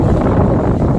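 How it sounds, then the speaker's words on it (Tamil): Strong gusting wind buffets the microphone outdoors in a low, heavy rumble that fills the short moment without any voice. "ரொம்ப பயங்கரமாக காற்றடிக்குது"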